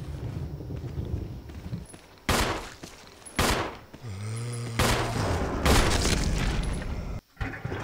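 Rapid bursts of video game gunfire crack out in several loud volleys, broken by short gaps and a sustained tonal hum, with heavy impacts between the shots.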